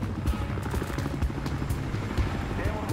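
A helicopter in the shooter game Battlefield Hardline drones steadily with a choppy low rotor thump throughout, mixed with busy game sounds and intermittent speech.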